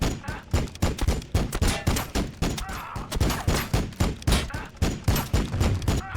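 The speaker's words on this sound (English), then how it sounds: "Firing cannon." Cannon and gunfire crash through a Warhammer 40000 Battlesector multiplayer match between Astra Militarum and Tau. Dense, rapid bursts of loud shots and booms hammer on without a break in a sustained barrage.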